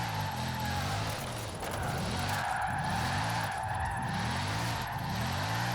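Bugatti Divo hypercar drifting in Forza Horizon 4, with steady loud tyre squeal over a wavering, revving engine drone that rises and falls in repeated sweeps throughout.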